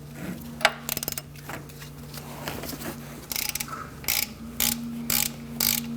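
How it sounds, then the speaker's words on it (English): A ratchet with a short 19mm socket clicks in several short bursts while loosening an engine mount nut on a 2002-2006 Toyota Camry, close and fairly quiet over a steady low hum. "Using a 19mm socket, a short one, you're going to loosen up this nut."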